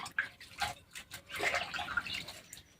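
Water sloshes and splashes in a container as potato slices for wafers are stirred and rinsed by hand, with irregular drips and swishes.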